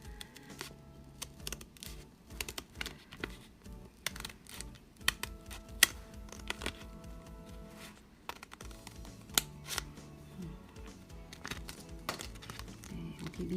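Scissors cutting through thick paper in a children's craft lesson, a string of faint close crisp snips and crinkles at an irregular pace, with no talk.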